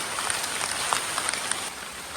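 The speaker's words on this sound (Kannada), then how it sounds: "ಫಸ್ಟ್ ಹೊಳೆಗೆ ಬರುವಾಗಲೇ ಜೋರು ಮಳೆ ಬಂತು" Heavy rain near a river, a dense steady hiss of falling drops with faint scattered pattering, alone and even throughout.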